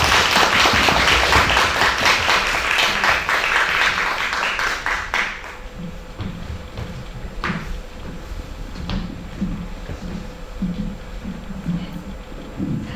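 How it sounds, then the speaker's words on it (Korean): Large audience at a film festival talk in a cinema applauds as guests take the stage, a dense burst of clapping that fades after about five seconds into quiet room sounds and some talk. "나오시면 큰 박수 부탁드리겠습니다"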